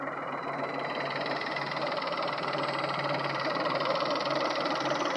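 A Peugeot/Citroen 1.2 PureTech engine idles with a steady, moderately quiet mechanical drone and faint ticking under the bonnet, heard alone without talk.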